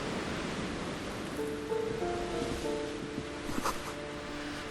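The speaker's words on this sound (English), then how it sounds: "Waves crashing in the darkness." Steady wash of waves crashing in darkness, a broad noisy surf rumble with faint tonal hums layered over it, part of a moody Disco Elysium game ambience.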